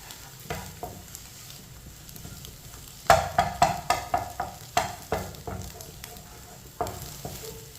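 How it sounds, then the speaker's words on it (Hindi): Eggs cook in a pan as a spoon stirs them, sending a run of sharp scrapes and taps in steady rhythm over a soft continuous sizzle, close and fairly loud with no talking. "मिक्स करके इसे दोबारा 1 मिनट के लिए पका लेंगे ऐसे चम्मच चलाते हुए"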